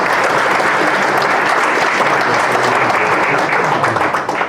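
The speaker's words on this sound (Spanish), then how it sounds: "Les pido un voto de aplauso, por favor." An audience at a Bolivian judicial panel event gives a loud, dense round of applause, a continuous roar of clapping close by that tapers slightly at the end.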